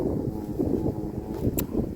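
Steady wind buffets the microphone in gusts throughout, a dense low rumble during a fishing training session on a windy lakeside, with one brief brighter click near the end.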